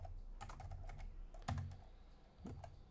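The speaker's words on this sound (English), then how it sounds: "Let's type in Charlie D'Amelio." Typing a name on a computer keyboard: a quick run of close, quiet key clicks in uneven bursts, with no talking.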